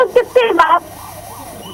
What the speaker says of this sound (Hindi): आपको शायद इस सायरन की ये आवाज सुनाई दे रही होगी